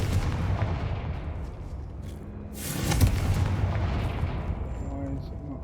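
Blasting spell explosion in the video game Hogwarts Legacy, one booming burst rising out of a low rumbling background and fading slowly, with some speech around it.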